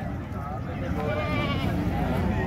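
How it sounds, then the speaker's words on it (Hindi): A goat bleats at a livestock market where Beetal goats are sold, a wavering cry under steady crowd chatter and the general din of the market. "ये दो बच्चे वाली बकरी है"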